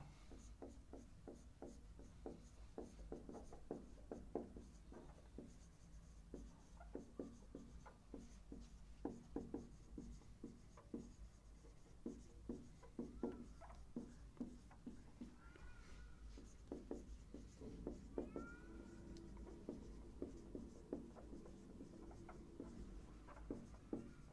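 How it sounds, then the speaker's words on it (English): Pen writing on paper while working through a geometry problem on parallel lines cut by a transversal, a steady run of soft scratchy strokes and taps that continues for the whole stretch with no talk. "Let me write it down."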